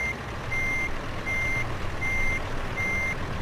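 A reversing truck rig in a driving simulator game gives evenly spaced electronic back-up beeps, four clear pulses over a low steady engine hum, with no talk.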